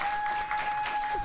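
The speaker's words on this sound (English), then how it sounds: "They're now clapping all by themselves." A television studio audience claps on its own, a dense, even wash of applause from many hands that holds steady throughout, close and fairly loud.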